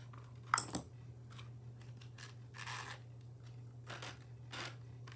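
Scissors snip and trim a handmade Halloween treat bag at close range, a sharp cut near the start followed by several softer, scattered snips and paper rustles over a low steady hum.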